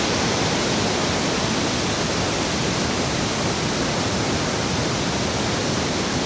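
Li Phi waterfall on the Mekong in southern Laos roars as a steady, broad rush of falling water, loud and unbroken throughout with no voices.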